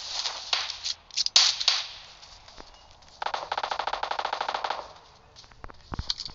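Gunfire in the mobile battle-royale game PUBG Mobile: scattered single shots early on, then a fast, loud automatic burst of evenly spaced rounds lasting about two seconds, followed by a few more isolated shots.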